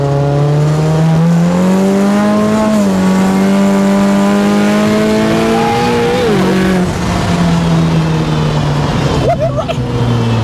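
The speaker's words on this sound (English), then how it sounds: "And with the in manual mode, it'll downshift by itself." Engine of a 1982 Toyota Corolla with an unusual engine and gearbox swap revving loudly and continuously, pitch climbing and dropping as the automatic-manual gearbox downshifts on its own, with voices talking over it.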